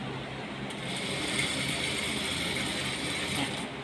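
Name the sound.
sewing machine stitching a curtain hem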